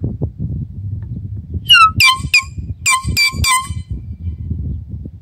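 Several brief, sharp blasts of a cheap dollar store air horn come in a rapid stuttering sequence, one short burst then a quick cluster, over ongoing low voices talking nearby.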